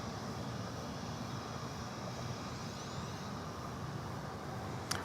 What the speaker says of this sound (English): The heavy jet coming in from Maui, 777-200.